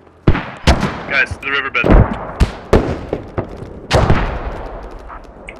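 Mortar rounds striking in a tactical multiplayer squad video game, a string of loud sharp blasts and cracks at irregular intervals over a few seconds, with a voice calling out over the impacts.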